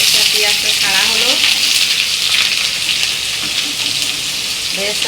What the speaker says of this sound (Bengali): তেল গরম হয়ে গেছে, এবারে বেরেস্তা বানানো হচ্ছে।